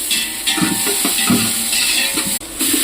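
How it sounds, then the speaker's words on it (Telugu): Cabbage frying in a pan for gongura gravy, a loud, steady close-up sizzle that never lets up, with soft scraping and stirring noises rising and falling through it. "ముందుగా క్యాబేజ్ వేసుకోవాలండి. దాన్ని బాగా ఫ్రై చేసుకోవాలి."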